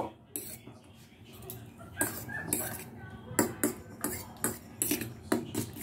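Two eggs being beaten with spices in a bowl, a steady run of sharp utensil clinks and taps against the bowl that grows busier partway through, close and clear with no talking.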